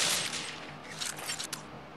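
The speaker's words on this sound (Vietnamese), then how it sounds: "phát vừa rồi mình bắn một viên vào đầu và một viên vào người cũng không chết" Shots from an M4A1 rifle in a first-person shooter clan match crack in a quick burst of several sharp reports, then a few scattered single shots, loud and close with no talk over them.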